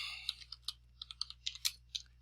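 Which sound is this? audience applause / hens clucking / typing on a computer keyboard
typing on a computer keyboard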